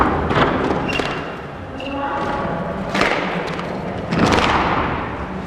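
A squash ball is driven backhand in a British national championship match, giving a sharp, hard thud among a few quick impact knocks and a loud crowd reaction, with a commentator speaking over it.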